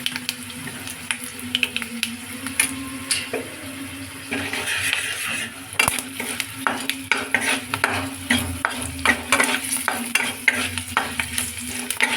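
Turmeric being stirred into lemon rice as it fries in a pan, with a constant sizzle under frequent scraping and tapping of a metal spoon against the pan, loud and close.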